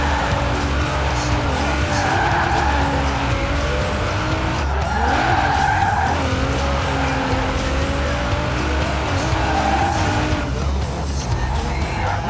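A car drifting in the racing game Forza Horizon 4, with a steady engine roar and long wavering tire squeals that rise and fall, loud and continuous throughout.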